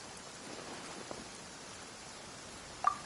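Rain in the video game Genshin Impact, a faint, steady hiss of falling rain with a couple of small ticks and a brief click near the end.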